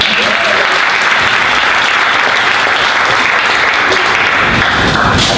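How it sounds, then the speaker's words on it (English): Sustained, loud applause from an audience at a launch event at RADA, dense, even clapping filling the room without a break from start to finish. "give yourselves all a big round of applause"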